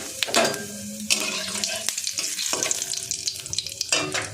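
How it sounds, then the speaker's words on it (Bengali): Whole cumin seeds dropped into hot oil for tempering dal, crackling and sizzling steadily with stirring and faint clatter of a utensil, fairly close. "একটু গোটা জিরে ফোড়নে দিয়ে দেবো।"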